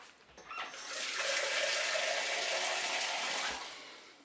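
Water poured into the pot of a Cookeo pressure cooker holding sterilising jars of aubergines, a steady close splashing stream lasting a few seconds before it stops, with no talking.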